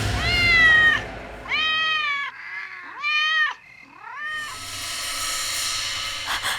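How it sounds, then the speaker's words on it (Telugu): A black cat meowing loudly and close, several drawn-out wavering meows in a row followed by a brief breathy hiss. "నల్ల పిల్లి"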